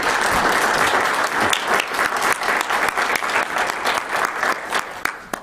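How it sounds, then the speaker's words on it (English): An audience at a Weber County meeting applauds, dense sustained clapping close by that continues loudly through the whole stretch with only slight dips and no talk. "Let's give Ange a round of applause"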